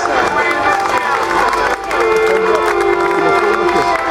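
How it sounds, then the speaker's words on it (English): Crowd at an outdoor game fair arena in Scotland applauding and cheering loudly and steadily, with whoops and a shouted voice rising above the clapping, a brief dip midway. "Ladies and gents, give him a big round of applause."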